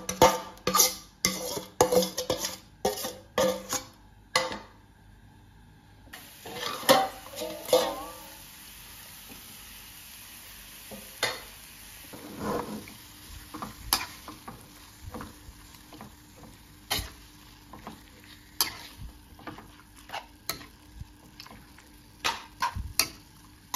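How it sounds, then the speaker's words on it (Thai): Irregular clinks and scrapes of a utensil against a pan as meat is stir-fried over low heat for Northern Thai hang le curry, with scattered sharp taps and a faint steady background hum; no talking. "ครบ1ชั่วโมงแล้วเราก็เอามาคั่วกับกระทะเลยเจ้า"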